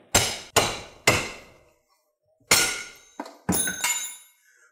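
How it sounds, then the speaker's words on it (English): Hammer blows drive a part into place on a Maverick master cylinder and Scott Drake adjustable brake pedal rod, close to the push rod: three sharp metallic strikes, a pause, then several more hits, loud and close with no talk. "you want to bang this out with your hammer, getting as close down by the push rod as you can get"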